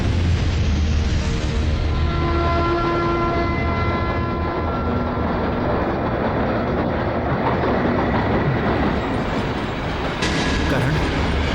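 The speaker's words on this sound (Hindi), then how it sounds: "Godavari express platform number 1" Godavari Express train pulling in at platform 1 of an Indian station, a steady rumble of wheels and rail noise with horn-like tones, continuous and loud throughout, with background voices.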